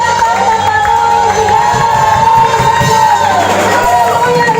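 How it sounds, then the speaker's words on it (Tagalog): A church congregation at a Sunday healing and worship service claps and cheers loudly and steadily throughout, a dense roar of crowd noise with a voice ringing over it. "Malakas na palakpak ng Panginoon!"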